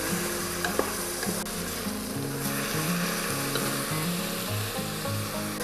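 Sliced onions fry and sizzle steadily in a pan with a spoon of salt, a continuous hiss layered with repeated scraping stirs, close and moderately loud, with no voices.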